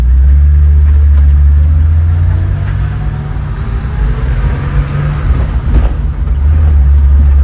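BMW E30 driving on the road after new engine mounts were fitted, a steady loud low engine drone and road rumble that eases slightly mid-run and builds again, close inside the cabin with no talk.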